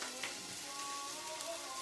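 Chicken sausage browns in a pan with a soft, steady sizzle and faint crackle, continuous and close, with no voices.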